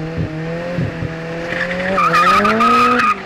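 A white BMW launches off the line at a drag race in Tiraspol on a 402-metre straight; the engine roars and climbs in pitch as tires squeal loudly, the noise swelling and then cutting off.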